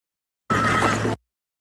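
A horse whinnies once in House of the Dragon, a loud, sustained call lasting under a second that stands alone against silence.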